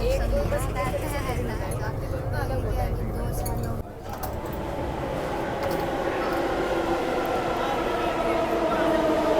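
A metro train rolls along an elevated track between New Delhi and Noida with a steady rumble and rattling hum. Speech is heard faintly over the noise, and there is a brief dip partway through.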